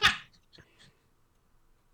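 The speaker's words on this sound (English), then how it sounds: "You just hear a meow." A single short cat meow, close and fairly loud, followed by a couple of faint soft trailing sounds, then near silence.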